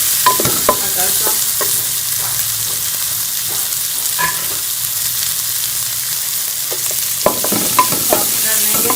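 Chopped onions sizzle and fry in a pan for tomato paratha, a continuous bright hiss broken by occasional scraping stirs of a spoon against the metal.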